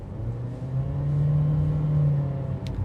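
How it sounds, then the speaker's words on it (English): A 2026 Acura ADX SUV with a turbocharged engine and CVT accelerates hard, giving a steady, droning engine hum that swells gradually and holds, heard from inside the cabin with no talking. "and then you wanna mash on the gas like this."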